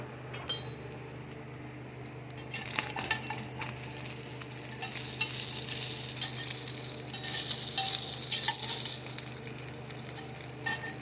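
Organic ground beef from Aldi fries in a pan on a setting of 5 until very crispy, a steady close sizzle that swells and is stirred now and then, with a low hum beneath and no talking.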